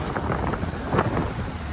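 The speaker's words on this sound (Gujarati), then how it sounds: "બાકી આજે પવન મસ્તી" Steady wind buffets the microphone with a low, rumbling roar that stays constant throughout, with no clear voices.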